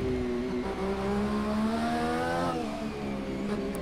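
An Indycar engine in Project CARS 2 racing at Long Beach drones loud and close, its whining pitch climbing through the gears and echoing off nearby grandstands and tunnels, with no one speaking.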